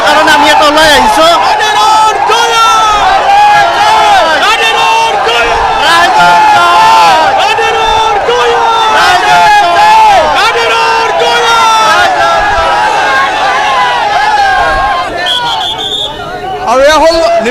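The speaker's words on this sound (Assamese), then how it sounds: "সেই পৰিৱেশটো এইধৰণে আনন্দ উল্লাস কৰা দেখিবলৈ পোৱা গৈছে দলীয় নেতাকৰ্মীসকলে" A large crowd of party workers cheers and shouts in celebration after an election win in Nalbari, Assam, a loud continuous roar of voices and whoops close by, sustained throughout.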